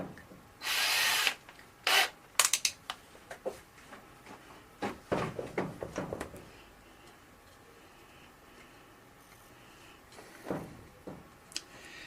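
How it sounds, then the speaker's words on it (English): A small drill bites into a broken bolt on a Honda Blackbird CBR1100XX motorcycle in short, faint, intermittent whirring bursts, with scraping and handling noises between them and long quiet gaps. "use a small drill to centralise it"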